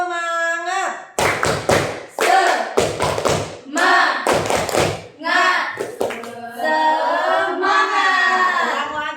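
A group of participants in a guidance-counseling class ice-breaking session performs a rhythmic spirit clap, loud bursts of clapping and thumps in patterned groups, with chanting voices between the beats.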